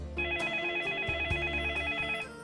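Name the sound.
telephone ringing for an incoming call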